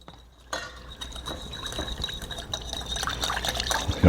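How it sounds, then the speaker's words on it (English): A lime dressing with salt, pepper and red pepper flakes is whisked in a bowl; after a brief quiet start, wet sloshing and quick irregular clicks of the whisk continue close up. "We're gonna whisk this all together."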